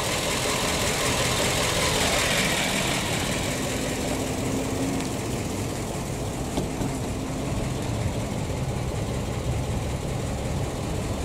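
A PAZ-672 bus with a V8 engine idles steadily after repair, its loud, close, even rumble running continuously with no knocking and no talk over it.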